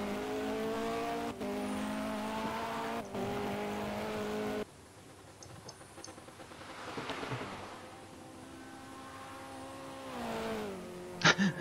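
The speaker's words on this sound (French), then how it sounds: "on est sur des LMP 900, hein, pour rappel, avec ses Audi R8, BMW V12 LMR et Bentley Speed 8" LMP900 prototype race cars, including the Audi R8, BMW V12 LMR and Bentley Speed 8, race at the Nürburgring in Project CARS. Engines wail and shift past the listener, with tire squeal and closer revving near the end.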